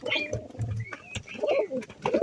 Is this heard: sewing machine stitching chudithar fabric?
no